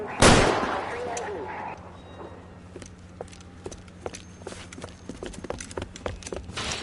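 Gunfire in an LA Noire shootout, one loud sharp shot at the start followed by scattered lighter cracks and clatter, with voices speaking.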